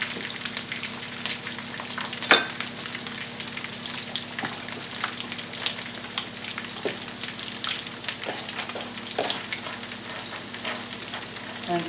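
Breaded cauliflower pieces fry in hot oil over medium-high heat with a steady, close sizzle and crackle, dotted with sharp pops.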